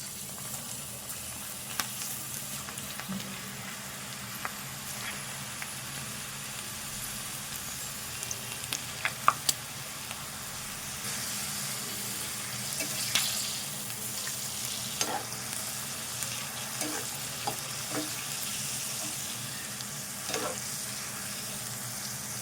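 Okra pakodi (bendakaya pakodi) frying in hot oil, a steady bubbling sizzle throughout with occasional crackles and soft clinks of a spatula in the pan.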